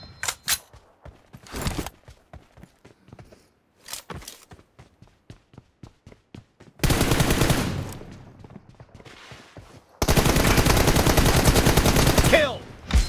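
M416 rifle gunfire in the mobile game PUBG Mobile during a 1v1 match: single sharp shots and short bursts come first, then two long, loud sustained volleys of full-auto fire. The shooting is close, and no voices are heard.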